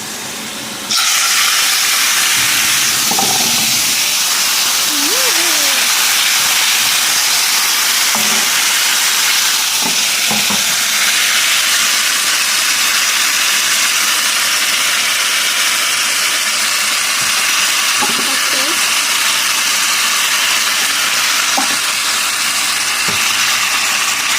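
Garlic and roasted capsicum sizzle in a frying pan with a loud steady hiss that runs throughout, and a few soft clinks can be heard under it.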